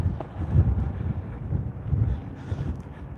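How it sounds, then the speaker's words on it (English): Strong wind gusts buffet the microphone atop Glen Canyon Dam, producing low rumbling bursts that rise and fall in waves, close and loud, with no voices. "It's real windy out here."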